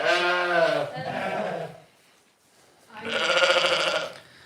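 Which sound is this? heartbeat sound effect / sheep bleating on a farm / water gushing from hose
sheep bleating on a farm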